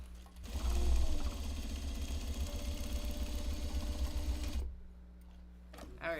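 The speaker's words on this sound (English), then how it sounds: "There is all the top stitching done." A home sewing machine top stitching a triangle pouch project bag, running steadily and close for about four seconds before stopping, followed by brief quiet handling noise.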